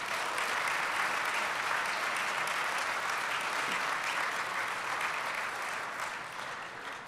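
Award winners at the 2019 iAwards show receive steady, dense applause from the audience, filling the room for several seconds before tapering slightly at the end.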